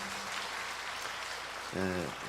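A church congregation applauds in a steady, dense patter of clapping that fills the moment, and near the end a voice speaks briefly over it.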